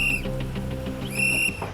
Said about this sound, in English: If you hear these whistles,